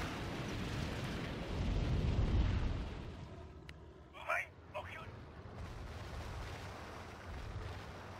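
Distant, rumbling bomb blasts hit a target in the IL-2 1946 flight-sim game. A few low booms sit under steady engine drone, and a voice talks over them.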